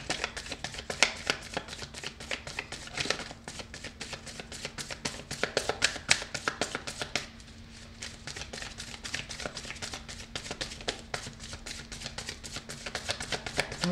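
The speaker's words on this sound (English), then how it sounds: "I'm sorry if the shuffling is too loud" Tarot cards are shuffled close to the microphone in a rapid, continuous run of crisp riffling taps, pausing briefly midway before resuming at the same brisk pace.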